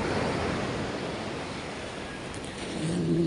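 Ocean surf washing steadily onto the seashore in rough weather, a continuous broadband roar that swells slightly at the end, with no voices.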